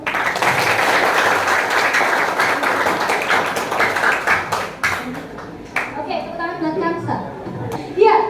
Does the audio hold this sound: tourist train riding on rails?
no